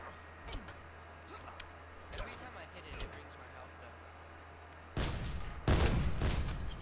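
Gunfire in Call of Duty: Black Ops 4, a few sharp isolated shots at first, then a dense loud burst of shooting at the end, with low room hum and background noise.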